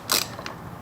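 A ratchet wrench makes a quick mechanical clicking burst, followed by a fainter second click, while bolts are loosened under a 2016 Ford Fiesta ST during bumper removal.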